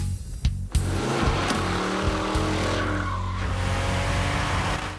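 A 2006 Corvette Z06 and a 1966 Corvette 427 doing smoky burnouts, with a loud continuous engine roar and tire squeal held close throughout after a brief sharp start.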